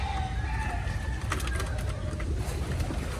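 Soft pigeon cooing with a few bird calls over a low rumbling background, steady and close, with no talking.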